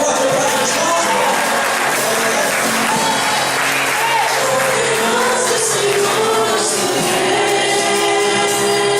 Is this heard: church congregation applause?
yes